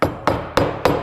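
Four sharp hammer blows strike a glued wooden handle being seated during a mill build, evenly spaced and close, each with a brief ringing decay, no voices.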